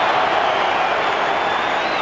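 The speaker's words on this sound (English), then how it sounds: "And listen to the crowd." A packed Australian football crowd roars at the WACA in Perth during a 1995 AFL match between Fremantle and Geelong, a dense, steady wash of cheering and applause filling the ground without letup.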